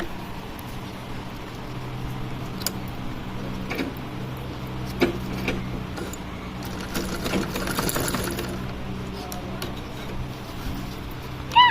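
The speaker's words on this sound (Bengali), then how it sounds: "এবার আমি সেফটি পিনটা খুলে এই ইলাস্টিকটা এইভাবে আমি একটু এর উপর সেলাই করে নেব।" A basic sewing machine stitches over elastic on a pair of shorts, a steady mechanical whir with a soft rapid clatter, fairly quiet and running continuously without talk.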